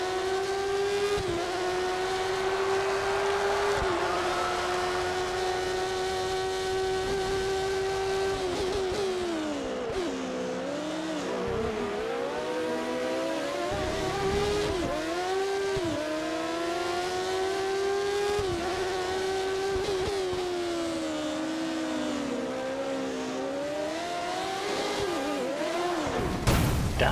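A Williams Formula 1 car at the Hungaroring accelerates hard with its rear wheels spinning, a loud, close, sustained high-pitched engine wail that rises and dips through gear changes, ending in a sharp burst.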